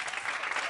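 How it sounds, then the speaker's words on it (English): A theatre audience gives a big round of applause for the Matilda musical cast at the Lyric, dense continuous clapping filling the whole brief moment. "Give them another big round of applause, please."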